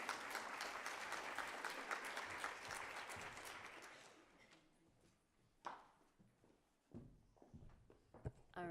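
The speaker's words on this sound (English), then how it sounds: "Now you can applaud." Audience applause at a women-in-engineering forum, dense and sustained clapping for about four seconds, then fading into scattered claps and small noises as the room quiets.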